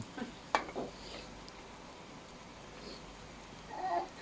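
An egg curry is stirred in a pan, giving a faint, steady sizzle with a few soft scrapes and knocks from the utensil early on and a brief livelier stir near the end.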